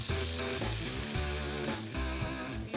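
Burger patties sear on a super hot cast iron skillet, a loud, close, steady sizzle with bursts of spatter and scraping under it, and no speech.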